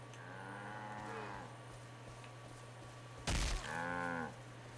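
Cattle mooing in the Far Cry 5 video game: two long, low moos with a sharp crack between them, over a steady low hum, close and distinct with no talking.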